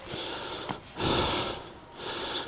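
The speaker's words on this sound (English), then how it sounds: "enough of me panting" A person walking up steps outdoors breathes heavily, with loud close panting in long rhythmic in-and-out breaths, alone without talk.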